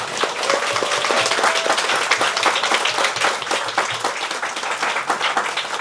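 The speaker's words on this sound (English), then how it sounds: "But let's all give Thomas a round of applause." Applause fills the room after a talk, a dense, steady clapping from the audience that carries on throughout at close, even loudness.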